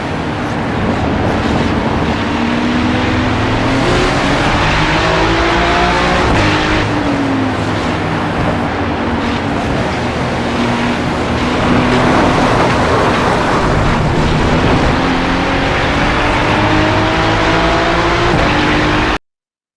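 Ferrari 296 race car lapping Okayama in a racing video game replay, a loud continuous engine drone with rising and falling pitch through gear changes and the hum of nearby cars, no talk.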